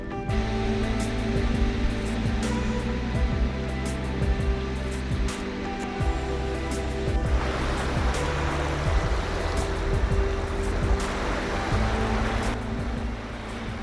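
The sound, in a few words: waves on a beach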